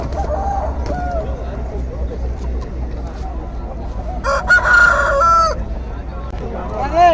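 At a country chicken market in Nallapadu, hens cluck and a rooster crows loudly near the middle, amid a busy outdoor din with people chattering in the background.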